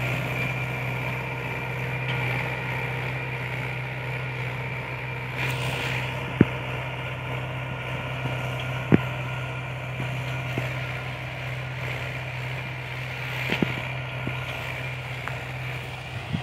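A Mahindra 575 DI tractor pulls a 9-tine cultivator through a field, its diesel engine holding a steady, moderately loud droning hum with a few faint clanks over the top.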